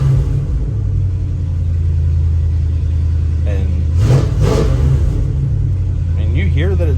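A 390 V8 engine with a stainless steel exhaust runs quietly at a steady 2,500 RPM, giving a continuous low rumble. Someone talks at a low volume over it.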